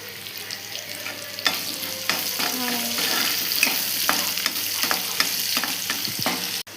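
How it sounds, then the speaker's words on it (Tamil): A full batch of chopped onions sautéing in oil in a pan for vada curry, a steady sizzle under repeated scraping and stirring strokes, close and continuous, with no voices. "மொத்த வெங்காயம் போட்டுக்கோங்க, நம்ம அள்ளி வச்சதை. இப்போ நல்லா போட்டு நல்லா வதக்கிக்கோங்க."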